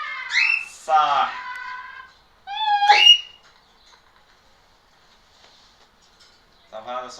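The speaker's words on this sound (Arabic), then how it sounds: "قطة." A cat meows twice in quick succession, close and clear, followed by a quiet pause and a short final call at the end.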